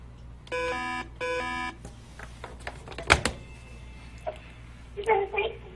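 Telephone ringing during a call-in talk show, two sharp electronic rings near the start, followed by a clunk and faint studio sounds.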